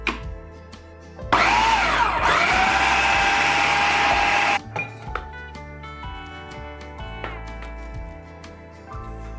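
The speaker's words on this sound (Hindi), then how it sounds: "चलें इसी तरीके से हम सारा मिक्सर पीस लेते हैं।" A mixer grinder whirs loudly as it grinds chicken and lentils for shami kabab. The motor roars steadily for about three seconds, then cuts off, leaving light clinks and kitchen handling sounds.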